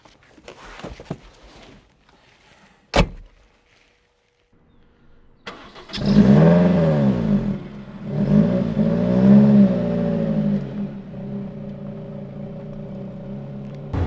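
After a few clicks and a thud, a Lotus Elise Cup 250 sports car engine cranks, fires up with a loud rev, then settles and rises again as it drives off.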